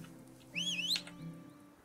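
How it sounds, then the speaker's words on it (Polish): In the oil-drilling game Turmoil, a short rising and falling whistle plays over a quiet steady hum. "No, tu pan gwizdasz."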